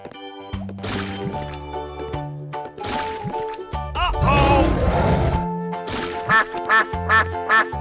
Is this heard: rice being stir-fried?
no